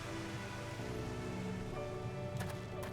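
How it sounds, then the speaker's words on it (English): Steady rain falls in the Final Fantasy XIV game world, a dense, even hiss with soft patter running throughout and a few brighter spatters near the end, no voices. "Ah, the rain's letting up here."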